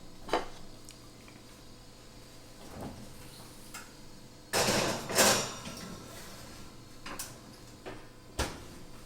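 Eggplant parmesan, layered and ready to bake, going into a home oven: a few sharp clanks and knocks of the oven door and rack, with a louder rattling burst near the middle, close and alone with no talking.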